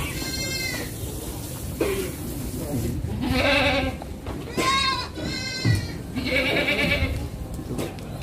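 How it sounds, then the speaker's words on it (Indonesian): Several breeding goats bleat loudly nearby in wavering cries inside a goat farm pen in Batu, Malang, East Java, over a steady background noise with some talking mixed in. "Kita berada di indukan kambing kambing gembolo."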